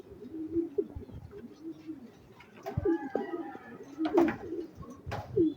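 A racing pigeon arriving at the loft during training in San Ildefonso, Bulacan, gives repeated low coos in short bursts. The calls are close and fairly quiet, with soft sounds of people and movement around them.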